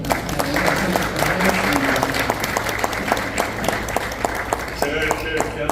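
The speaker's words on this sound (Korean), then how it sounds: "우리 강사님을 위해서 또 강사님 귀한 말씀 전해주시니 우리 큰 박수로 하겠습니다." An audience at a Korean church pastors' seminar applauds a guest lecturer, with dense, sustained clapping filling the room and a voice speaking faintly underneath.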